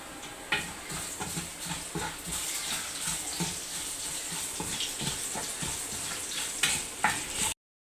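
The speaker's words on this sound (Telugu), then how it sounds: "పోపు వేసేసుకుంటున్నాను" Hot oil sizzles steadily in a pan as a tempering (popu) with asafoetida cooks, with a few sharp clinks of a utensil over the continuous fry, then it cuts off abruptly.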